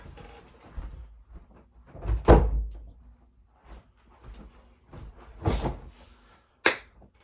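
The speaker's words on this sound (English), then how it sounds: "let me close the door real quick." An indoor door is pushed shut amid a few shuffling knocks, ending in one sharp, fairly close thud and latch click, with another faint knock at the end.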